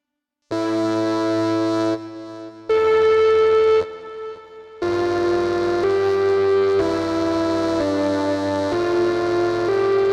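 The Echo Force preset from Symphonic AI, a Sample Logic and Red Room Audio sample library, plays sustained synthetic tonal chords in shifting blocks with echoing tails, loud and alone.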